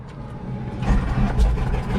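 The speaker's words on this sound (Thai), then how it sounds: "Engine start. Straight back behind. Clear!" A small training airplane's engine starts on the ground during flight training near San Francisco, its low rumble swelling into a loud, throbbing roar that pulses unevenly as it catches and runs.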